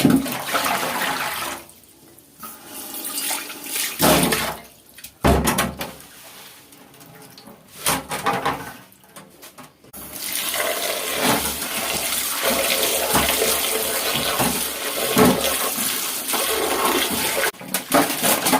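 Stinging nettle leaves washed under running water, the tap gushing loud and close in bursts separated by short pauses and softer splashing, with handling noises between.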